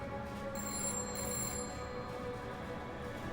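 Telephone ringing with a high electronic trill in a few short bursts, fairly faint over low background hum and then fading out.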